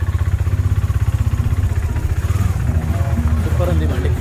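A Triumph Bobber motorcycle's engine idles with a deep, rapid, even throb, then rises a little in a low rumble. Heard close and loud under a voice and street noise outside a busy restaurant.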